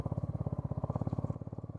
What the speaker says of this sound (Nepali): यस्तोमा स्ट्रगल गर्छ बालुवामा बाइक कुद्न।